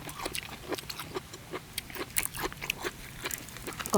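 Crunchy bites and chewing of spicy Thai pounded salad with crispy squid tentacles and bitter gourd, a series of irregular close crunches and mouth noises.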